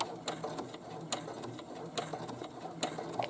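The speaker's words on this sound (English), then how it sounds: "So I'm going to stitch 1 inch or so on a scrap" A sewing machine stitches a short run on scrap fabric, its quiet mechanical whir broken by several sharp clicks and ticks at irregular intervals, fairly close and alone.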